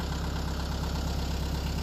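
A tractor engine idles while warming up with a rope-hitched rotary tiller attached, a steady, close, dense low rumble with a regular knocking pulse and no speech.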